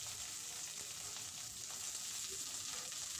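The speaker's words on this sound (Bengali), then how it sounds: "পটলগুলো আমি এখানে লাল লাল করে ভেজে নেব" Halved pointed gourd pieces fry in hot mustard oil, giving a soft, even, continuous sizzle with no talk over it.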